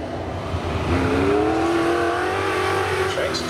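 A saloon race car engine revs up and holds a steady, rising whine over a loud constant rumble, close by.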